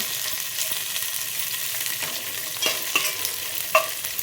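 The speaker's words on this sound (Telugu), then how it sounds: "అక్కడ మెంతి కూర వేగుతూ ఉంది" Fenugreek leaves fry in a pan with a steady close hiss of sizzling oil, punctuated by a few light scraping stirs toward the end.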